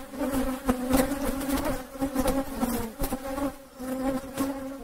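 Honeybees buzz steadily at a hive, a dense, continuous droning hum from many insects close by, swelling and fading slightly with no voices.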